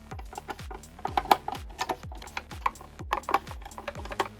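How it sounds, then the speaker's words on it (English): Eight screws being removed from the front of an Anker Boom 2 SE portable speaker during a teardown: a rapid series of close, sharp clicks and ticks from a driver turning, alone. "Moving forward, I'll remove 8 screws from the front of the speaker."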